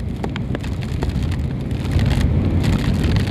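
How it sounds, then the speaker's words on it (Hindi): Heavy monsoon rain pours on the road to Amboli Ghat in Maharashtra, a loud dense hiss with scattered drop impacts that swells slightly toward the end, heard up close without talk. "भाई ये तो बहुत ज़ोर बारिश लग गई।"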